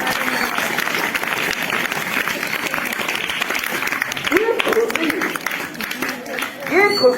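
Steady audience applause runs through a talk on mental health and emotional well-being, a dense patter of clapping with voices mixed in, swelling slightly toward the end.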